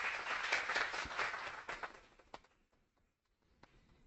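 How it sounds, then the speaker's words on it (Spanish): University event audience applauding, a short burst of clapping that quickly fades into a few scattered final claps in a quiet hall. "Un aplauso, por favor."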